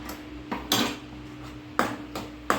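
A spoon stirs sugar and salt into bread halwa in a metal cooking pan, giving about six sharp, close clanks and scrapes at irregular intervals over a faint background hum.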